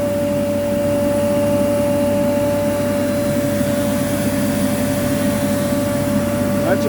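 A Butler vacuum blower runs steadily while being washed out with about five gallons of water drawn from a bucket, a constant loud droning hum with a fixed whine that holds unchanged for the whole stretch.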